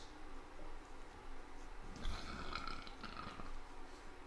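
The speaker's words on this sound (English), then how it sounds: "Is that a burp?" A brief, low guttural burp lands mid-clip, close and moderately loud over steady low room noise.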